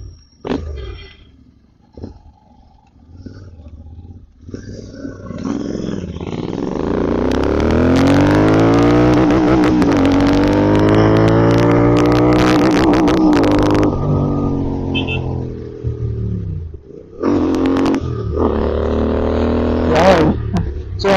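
A modified GT650 motorcycle, tuned with a Power Tronic, rides and accelerates, its engine climbing loud and sustained with rising revs, easing off, then pulling again, with light talk in the background.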